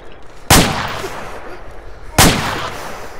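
Two sharp, loud sniper rifle shots ring out in ArmA 2, spaced about a second and a half apart, each with a booming report that tails off into a lingering echo.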